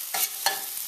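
Garlic and onion sauté in a pan for a chick pea and potato curry, with two bursts of stirring over a steady close sizzle that continues alone through the short stretch.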